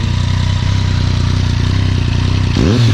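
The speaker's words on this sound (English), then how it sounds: "You'll be hearing much more of this exhaust in the future." A Yamaha FZ-09 motorcycle with an Akrapovic exhaust and the dB killer baffle installed rumbles close and loud at a steady, throaty idle, ending in a brief rev change.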